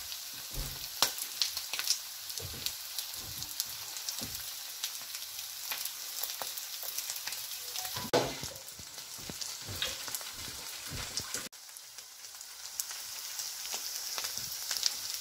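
Lechon sisig made from leftover roast pig head fries steadily in a pan, a soft continuous sizzle with occasional crackles and stirring scrapes, heard alone at low volume.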